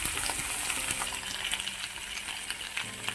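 Turmeric powder and salt frying in a pan for a drumstick masala curry: a dense, close sizzling hiss that holds steady under light stirring, with no speech.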